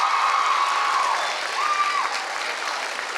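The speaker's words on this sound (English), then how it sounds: "Let's give her a big round of applause." Audience applause with some cheering at a public welcome event, a dense even clatter that stays fairly loud and eases slightly toward the end, with a faint whistle-like tone riding above it.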